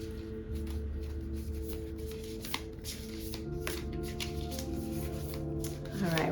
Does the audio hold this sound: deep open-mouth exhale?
no